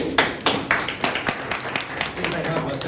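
An audience at a public speaking club meeting claps, a dense run of hand claps with quick rhythmic slaps, fairly loud and close.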